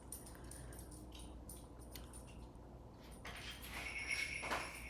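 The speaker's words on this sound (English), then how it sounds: "That was my dog asking to go out, ringing her little bell." A small bell jingles briefly near the end, over a steady low background hum, with soft rustling before it.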